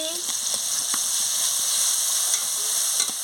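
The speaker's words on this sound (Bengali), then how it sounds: "দিয়ে ভালো ভালো করে মশলাটাকে কষিয়ে নিচ্ছি" Mustard paste and chopped green chilli masala fry in a pan while cooking prawn malai curry, giving a constant loud sizzle with light stirring scrapes and no speech.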